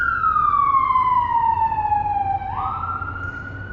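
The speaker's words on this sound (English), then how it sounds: "There's the siren just on cue." An emergency vehicle siren passes outside a meditation hall, a loud, steady wail sliding slowly downward in pitch and then stepping up to a new tone as it goes by, alone over low traffic rumble.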